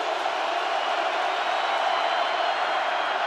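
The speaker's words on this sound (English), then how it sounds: "Crowd in full throat as always." A stadium crowd at a Seahawks home game against the 49ers roars continuously in full voice, a dense steady wash of noise with no pauses.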